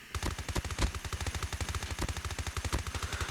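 A PDW-57 submachine gun fired from the hip in a video game, a fast, steady stream of evenly spaced shots in one sustained burst, loud and close with no talk over it.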